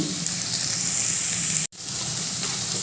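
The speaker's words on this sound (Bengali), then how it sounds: "তেলের মধ্যে নাড়াচাড়া করে ভালো করে ভেজে নেব" Pointed gourd sizzles steadily in hot oil, a close, continuous frying hiss with faint stirring, broken by one very brief dropout.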